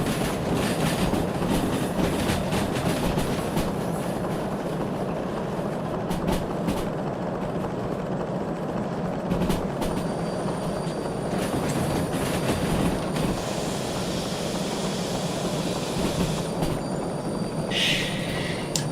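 Train rolling steadily through a railroad crossing, a continuous rumbling clatter of wheels on rails with occasional clicks and brief squeals, sustained and fairly close for nearly twenty seconds.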